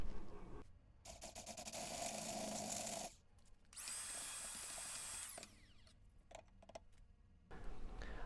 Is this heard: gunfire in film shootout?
no